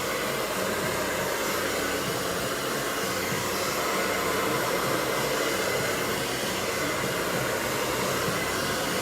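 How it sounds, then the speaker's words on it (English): A handheld blow dryer runs steadily at close range while hair is brushed and dried, a constant whooshing roar with no pauses. "Let the blow dryer and the brush do all the work."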